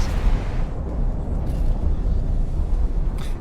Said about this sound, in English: Explosion imminent.